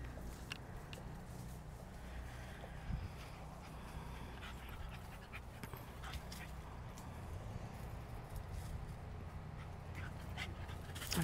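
Puppies pant steadily and give occasional soft whimpers outdoors beside a garden patch, a low continuous breathy sound with faint rustling throughout.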